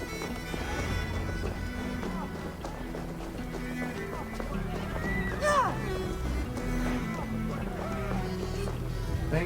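Horse hooves clip-clopping in the Viking-era game Assassin's Creed Valhalla, rhythmic steps mixed with a horse whinnying and snorting, moderately loud over game ambience and music.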